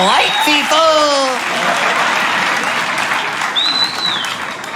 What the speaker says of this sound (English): Big round of applause for Aaron!